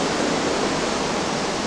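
From the deck of a cruise ship in Alaska, seawater beats against the shore in a continuous, loud, even roar of surf and rushing water with no pauses.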